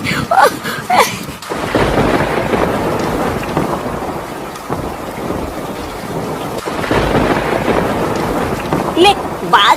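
Rain begins to fall as thunder rolls, low rumbling surges building and fading over steady patter, with voices speaking at the start and end.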